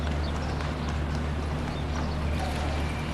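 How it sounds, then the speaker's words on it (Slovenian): Horse hooves clip-clop on a street in Egypt as the animals pull carriages carrying people, the hoofbeats irregular and overlapping over a steady low hum and background bustle. "Konjički cepetajo in vozijo ljudi."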